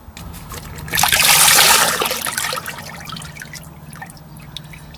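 Oil trickling and dripping from the oil filter housing of an Audi S3 just after the filter is removed, a steady close liquid dribble that swells loudly for a moment before settling to a lighter patter.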